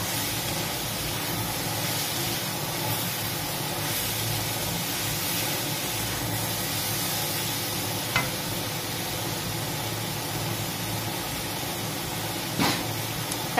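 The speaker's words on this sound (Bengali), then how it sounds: "দেখো মা ফ্রাই করছে, এটা কতক্ষণ ফ্রাই করতে হবে? এই অন্তত 10 মিনিট এটাকে ফ্রাই করে নিতে হবে ভালো করে" Cabbage fries in a pan, giving a steady, even sizzling hiss at moderate loudness with a couple of brief clicks, and no voices.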